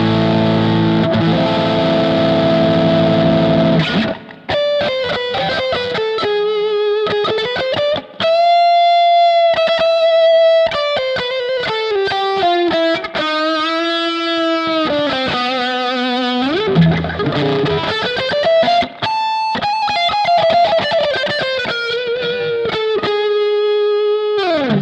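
Overdriven electric guitar through Positive Grid Bias FX 2 Pro, a gated amp simulation modeled on a Fender Deluxe with Celestion V30 speakers and reverb, playing a sustained melodic rock lead with bending notes, loud and alone.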